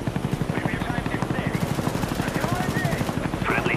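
A Huey helicopter in Black Ops, multiplayer Domination on the WMD map, thumps with a steady fast rotor chop, loud and close, while gunfire crackles over it and a voice announces game events.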